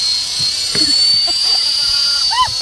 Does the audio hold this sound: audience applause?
no